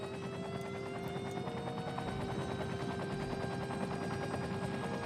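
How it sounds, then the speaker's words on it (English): Fire helicopters in the Cities: Skylines video game drone steadily with rapid rotor chop and a sustained engine hum, continuous and fairly faint, with no talk. "Also, I hear helicopters"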